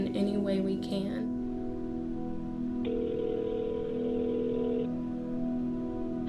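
A telephone rings through on a call to the United Way of Paducah–McCracken County office line, a steady electronic ring tone sounding after a burst of talk over low background hum.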